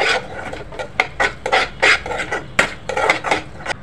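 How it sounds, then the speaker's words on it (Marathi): Spoon scraping and clinking against a pan while chilli, turmeric and garam masala are stirred together, quick irregular strokes, close and fairly loud, with no talk. "आता आपण सर्व मसाले मिक्स करूया"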